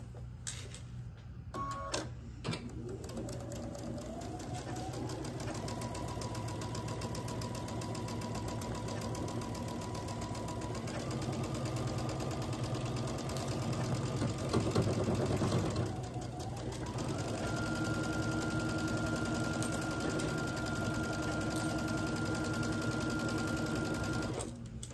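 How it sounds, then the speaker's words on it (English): A sewing machine runs one long, continuous seam through a quilt block, its close mechanical whir holding steady with slight shifts in speed throughout. "Pin this end and sew this seam."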